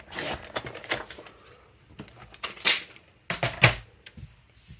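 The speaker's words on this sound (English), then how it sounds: "I'm just going to grab my cutting board, and this piece was 6 1/8 by 6 1/8, and I'm just going to cut a piece to 1 7/8." A paper trimmer slices through a piece of cardstock at close range, with a handful of sharp clacks and scraping swipes spread over a few seconds and brief pauses between them.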